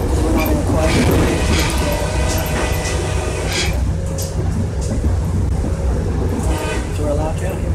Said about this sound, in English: This is what I'm looking at from inside the train, and there's a horn.